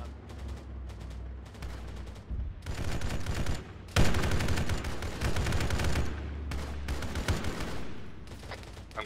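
Game gunfire during a shooting mission rattles in dense bursts of rapid shots, loud and sustained, with heavier blasts and a low rumbling background.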